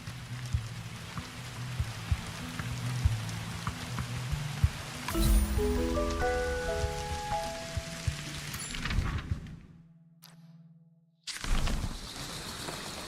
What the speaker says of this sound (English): The plips and plops of raindrops are so nice to fall asleep to.